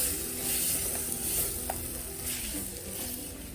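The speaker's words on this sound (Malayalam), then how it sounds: "നന്നായിട്ടൊന്ന് ഇളക്കി മസാലയൊക്കെ ഒന്ന് മൂപ്പിച്ചെടുക്കാം." Meat masala spices stirred and roasted in a pan for a Kerala-style crab curry, a continuous close sizzle and frying hiss with soft scraping from stirring throughout.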